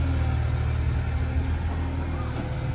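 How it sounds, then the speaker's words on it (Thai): A Kubota KX033 mini excavator with a three-cylinder diesel engine runs steadily nearby, a loud constant low drone with a slight rise in revs toward the end. "ตัวนี้เป็นเครื่องยนต์ สามสูบนะครับผม"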